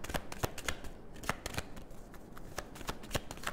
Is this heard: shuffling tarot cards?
yes